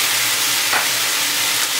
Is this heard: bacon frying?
yes